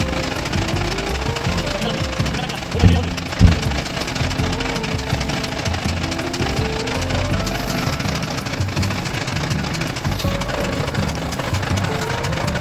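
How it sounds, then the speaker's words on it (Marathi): A chili grinding machine runs with a loud, constant mechanical drone, with a couple of heavier thumps early on and no pauses. "कांडप मशीनमध्ये मिरची टाकली आहे। आणि आता ही मशीन चालू करत आहे।"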